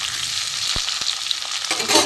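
Spices for tempering sizzle loudly in hot oil in a pan with partly fried potatoes, a close, continuous crackle broken by a couple of sharp utensil taps.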